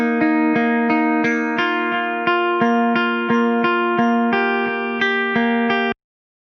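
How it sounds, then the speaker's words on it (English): A clean electric guitar, set up for a future bass production, plays about nine evenly spaced plucked chords with ringing harmonics, then cuts off abruptly. "Up next, we have this clean guitar sound,"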